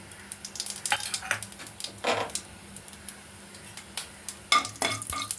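Whole nigella seeds and radhuni sizzle in hot mustard oil for a cabbage-free kakrol curry, a soft steady frying hiss with scattered clicks of a spoon against the pan, bursts of crackle rising near the end.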